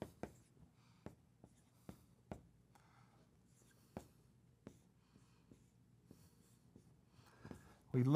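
Chalk or marker writing on a board during a biology lecture, heard as a series of sparse, sharp taps and short strokes in a quiet room, with a faint voice now and then.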